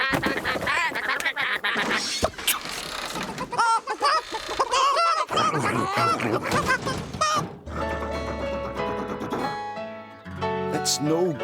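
Cartoon ducks in a barn quack and honk in a busy, overlapping chorus of nasal calls over background music, with a brief musical passage near the end.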